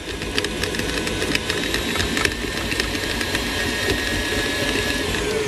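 A worn old electric hand mixer with beaten-up beaters whirs on high through cookie dough, a constant rattling mechanical drone with small clicks, close and loud without speech.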